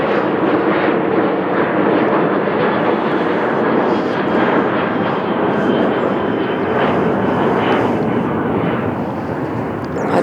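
An aircraft flies low over houses, its loud, broad engine roar sustained and unrelenting throughout.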